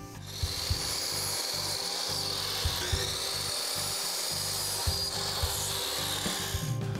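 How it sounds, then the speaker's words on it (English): Saw cutting about an inch off southern pine frame legs, a steady loud rasping cut running continuously with a rhythmic stroke pattern and no talking. "So what we're going to do is cut about an inch off of each one of these legs on the frame"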